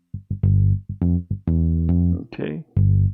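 Boss DR-880 drum machine bass with reverb, a series of loud, distorted synthetic bass notes in an uneven rhythm, each cut off sharply, with a brief buzzy burst partway through.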